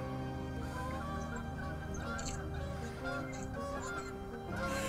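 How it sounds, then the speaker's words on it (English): Geese honking outdoors in a fishing setting, faint and fairly distant, scattered calls over a steady low background. "morning geese"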